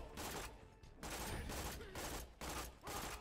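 SMG gunfire in the video game Borderlands 2, several rapid bursts of shots with short gaps between them, fairly faint under the game sound.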